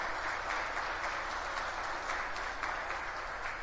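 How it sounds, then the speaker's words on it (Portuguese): A church congregation at a Quadrangular worship service applauds steadily in praise, a dense, even wash of many hands clapping that fills the whole moment without pause. "aplauda o nome de Jesus"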